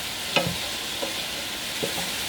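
Browned lamb mince in a pan for a bolognese, giving a steady soft sizzle with three brief stirring scrapes spaced through the short stretch, close and moderately quiet.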